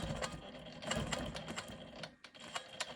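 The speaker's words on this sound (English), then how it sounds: "I'm going to go ahead and quilt this first line" A home sewing machine quilts a straight line across a quilt block, its rapid, even needle chatter running steadily up close, with a brief dip in speed near the end before resuming.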